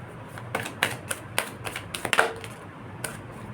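Tarot angel answers cards being shuffled by hand, a string of crisp close-up taps and flicks in irregular rhythm with brief pauses, heard alone without talk.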